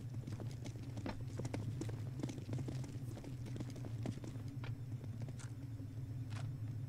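Rapid footsteps echo in Counter-Strike: Global Offensive on the Nuke map, a busy stream of quick clicking steps over a constant low rumbling hum, moderately loud and close.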